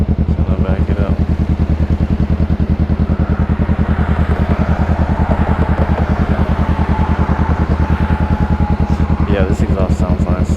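A Honda Rebel 500 motorcycle with a loud, open DBK straight-through exhaust with no catalytic converters rumbles steadily at close range, its deep pulsing drone unbroken throughout.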